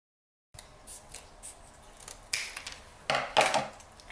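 Scissors snip through a flattened cardboard toilet paper roll, cutting it into rings; quiet, close crunching cuts come after a brief silence, with two sharper, louder snips near the end.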